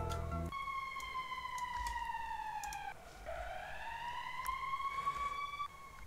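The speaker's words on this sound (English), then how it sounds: "So here we have the whole siren playing." A wailing siren sweeps steadily downward then back up, bright harmonics stacked above, with a low thump at the start and a brief dip midway.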